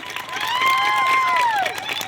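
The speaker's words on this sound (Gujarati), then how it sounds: "ફરી એકવાર જોરદાર તાળીના ગડગડાટથી આ દીકરીને વધાવીએ" An audience claps and cheers at a crowded Adivasi Day gathering, a steady wash of applause lasting throughout, with a drawn-out whistle rising and falling over the noise.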